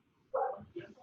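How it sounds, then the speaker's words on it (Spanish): A small dog barks once sharply and then gives a softer second yip in a quiet room during a class, with faint background murmur. "Ese perrito, póngale mute, por favor."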